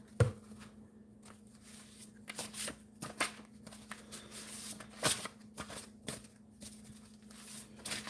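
Conversation cards being shuffled by hand, a run of soft riffling flicks and taps, close and fairly quiet, with no talking.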